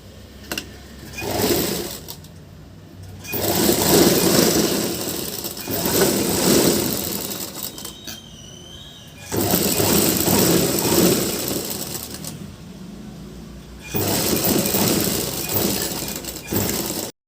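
Electric sewing machine stitching blouse sleeves runs in repeated bursts of steady whirring and clatter, each lasting a few seconds, separated by short quiet gaps where the fabric is repositioned; loud and close.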